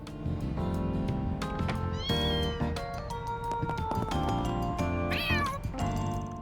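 A cat meows repeatedly in the video game Trails Beyond the Horizon, several short, bright calls sounding over steady game music with rising tonal sweeps and no talk.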